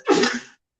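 A single sharp sneeze, close and loud, with a brief breathy tail, followed by a tiny faint sound afterward.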